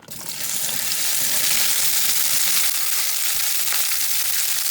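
A generous pour of olive oil sizzles loudly in a hot pan while gumbo is being made, a steady, bright frying hiss that rises quickly and holds constant throughout.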